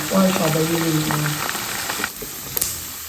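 Gizzards fry in hot oil with a steady hiss and crackle. A voice talks over the start, then the sizzle carries on alone, with a couple of sharp pops near the end.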